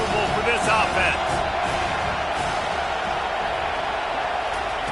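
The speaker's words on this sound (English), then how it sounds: "This crowd trying to make life miserable for this offense." A stadium crowd roars in a College Football 25 video game, a dense and continuous wall of noise with some faint whistles and cheers, loud and steady throughout.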